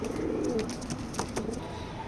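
Racing pigeons in a loft give low, soft coos close by against a steady background hum, with a few faint clicks scattered over the short stretch.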